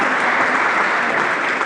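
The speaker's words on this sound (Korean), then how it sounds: "큰 박수 부탁드립니다" Audience applause at a Korean franchise forum, a dense steady wash of many hands clapping loud and unbroken throughout, with no voices rising above it.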